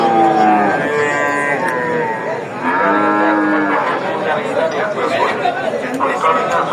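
Cattle and oxen low repeatedly at a busy livestock market in Jizzakh, with long loud moos over a steady murmur of people talking nearby.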